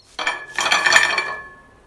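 Crisp, crackling crunch of a golden-brown deep-fried potato roll samosa being broken, one short burst followed by a longer, louder crackle close up, with no talking.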